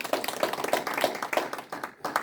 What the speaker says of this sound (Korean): 우리 하나님께 감사의 박수 한번 드리겠습니다